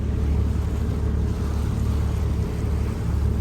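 A passenger ferry crossing a lake in the Lake District, heard from its open rooftop deck: a steady, loud low engine drone with a constant churning rumble and no voices.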